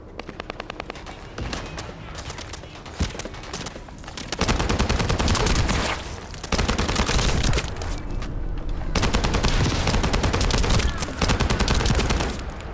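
Sustained automatic gunfire in The First Descendant, a free-to-play open-world looter shooter, with dense rapid bursts from about four seconds onward, loud and close, broken by short pauses between volleys.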